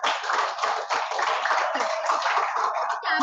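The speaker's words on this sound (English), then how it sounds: "So clapping for everyone." A classroom of students claps together for both the winning boys and the girls after a contest, a dense, steady patter of many hands that carries on without a break.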